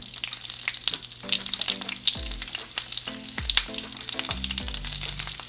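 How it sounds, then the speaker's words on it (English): Pieces of onion dropped into hot oil, a loud, close sizzle that crackles and spits continuously, swelling as more pieces hit the pan, with no talking. "We're going to break it down and throw it in the oil."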